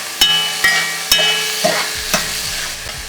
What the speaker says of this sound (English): we're going to let these tomatoes cook down and sort of form a nice tomato paste